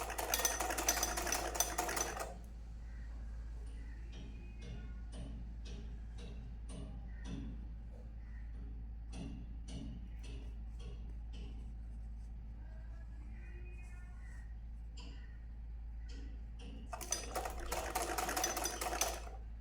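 A sewing machine runs stitching elastic into a sleeve, a quiet rapid clatter in short bursts and steady runs through the middle, framed by louder handling noise at the start and finish.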